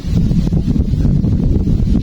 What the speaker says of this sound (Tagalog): ganyan po yung hangin kung gaano kalakas